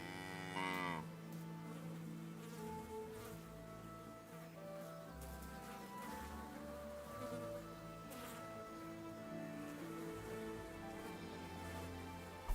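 Cattle in a video game give a long low moo that is fairly close, followed by steady ambient farm background with faint further lowing. No speech is audible.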